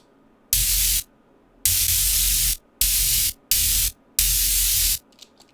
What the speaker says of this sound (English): giving that kind of static electricity kind of feeling